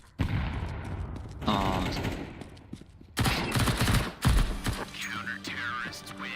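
Rapid bursts of gunfire from a Counter-Strike style video game, loud and close, with repeated volleys and a short gap between them, and a brief spoken exclamation during the shooting.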